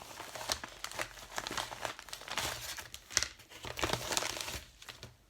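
Paper envelope handled and opened up close, a run of soft crinkles and crisp rustles with a few sharper tearing bursts, quiet and alone without speech.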